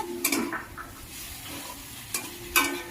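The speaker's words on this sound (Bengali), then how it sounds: "এখন আমি যে ভেন্ডিগুলো ভেজে রেখেছিলাম সেইগুলি আমি এর মধ্যে দিয়ে দিচ্ছি" Fried okra being stirred into a spiced masala in a pan, with a soft steady sizzle and a few sharp scraping clinks of the spoon against the pan at the start and end.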